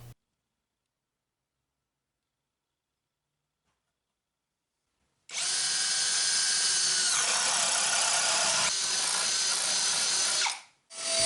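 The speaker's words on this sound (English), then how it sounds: "Drill a 1-inch hole through the center spoke." A power drill bores a 1-inch hole through the center spoke of a wooden water wheel, starting abruptly after a silent stretch and whining steadily and loudly for about five seconds before cutting off briefly and resuming.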